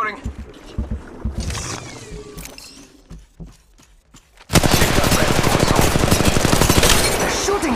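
Gunfire in the mobile battle royale game Apex Legends Mobile at Kings Canyon: scattered shots and movement sounds give way to a loud, sustained rapid-fire burst of automatic weapons that continues to the end.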